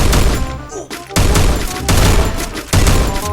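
Gunfire in a shooter video game, with loud, close bursts of rapid shots and sharp booms broken by brief pauses, dense and punchy throughout.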